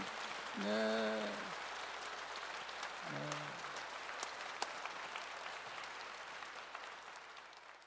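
Church congregation applauding during a Sunday worship service after a thanks-offering choir and instrument team performance, a steady wash of hand clapping from a large room, with a brief spoken voice near the start and again briefly later.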